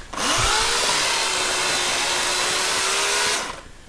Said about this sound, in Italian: Ora ci illustrerà l'uso della motosega.